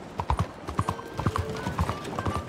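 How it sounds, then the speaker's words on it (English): Horse hooves clop on concrete at a brisk, uneven gait in Red Dead Redemption 2, with sharp, close strikes in quick pairs and faint game ambience underneath. "like Bianca running on this damn concrete or whatever. You even hear the difference in the sound"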